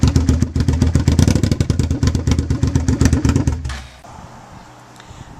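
A 2000 Suzuki SV650 motorcycle fitted with a Danmoto XG-1 slip-on exhaust, its engine loping with a rapid, loud, pulsing idle for several seconds before dropping off to a low near-silent tail.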